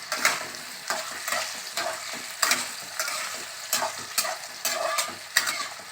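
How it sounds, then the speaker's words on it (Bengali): Potatoes fry with turmeric in a pan, a steady close sizzle with regular spatula scrapes and stirs about once a second, and no voices. "আলুটা ভাজার সময় অল্প একটু হলুদ দিয়ে দিলাম"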